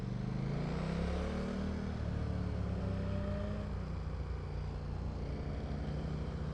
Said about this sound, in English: Oh, it's a Golf! It's an old Golf GTI!